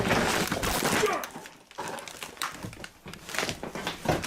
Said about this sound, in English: Well, I just fell through the floor.